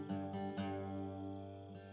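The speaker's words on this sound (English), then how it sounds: "Maybe I'll give you some crickets to keep you entertained." Crickets chirp softly during a live music performance, a faint steady trill over a quiet, sustained tonal background, with no speech.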